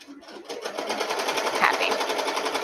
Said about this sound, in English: then it's going to start stitching